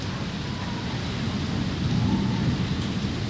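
Heavy early-morning rain pours steadily over a flooded street in Lahore, a dense continuous roar with a low rumble of thunder swelling near the end.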